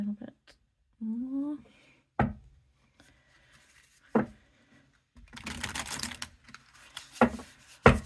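Shuffling a Tarot of the Rose card deck, a set of flexible, reversible cards: a burst of rapid riffling papery flutter comes in after several sharp taps and handling noises. Brief talk is heard at the start.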